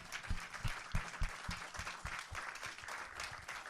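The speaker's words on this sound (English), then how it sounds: "can we give a round of applause to this woman's beautiful voice?" An audience at a film screening Q&A applauds, a steady wash of many hands clapping with a few louder claps standing out near the front, continuing throughout.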